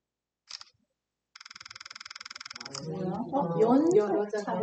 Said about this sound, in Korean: 버스트 샷은 연사예요